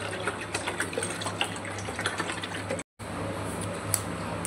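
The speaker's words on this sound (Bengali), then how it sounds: "এবার এর মধ্যে ঠান্ডা জলগুলো ঢেলে দেব" Cold water pours steadily into a mixture in a bowl, a continuous close splashing trickle with a brief cut partway through.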